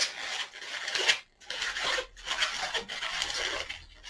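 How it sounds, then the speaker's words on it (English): A finger rubs against an inflated balloon while a balloon dragon model is being twisted, making close, loud squeaky rasping strokes in several bursts separated by short pauses, with no talking. "just rubbing my finger there."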